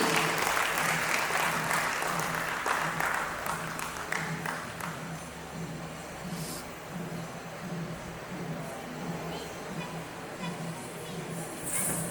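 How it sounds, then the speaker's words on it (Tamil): An audience gives sustained applause for the Damaroo Natyakshetra dance team at a Kanniyakumari Day celebration in 2024. The dense clapping is strongest at first, then settles into a steady, slightly softer ovation. "ஒரு பெரிய கைத்தட்டல் கொடுக்கலாம் டான்ஸ் டீம்"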